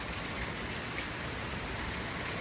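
Steady heavy rain falls, a dense, even hiss that fills the whole moment with no pauses or voices.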